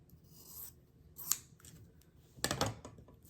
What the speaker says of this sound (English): And now I'll cut this excess above where my stitch line was.